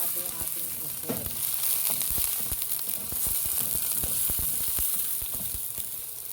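Frozen squid for adobo sizzles and crackles in a hot pan, a steady frying hiss with scattered pops and stirring clinks, close and continuous.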